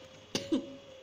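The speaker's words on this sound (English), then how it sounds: "I get done coughing." Two short coughs in quick succession, close and fairly quiet, the second one rougher like a throat clearing, then silence.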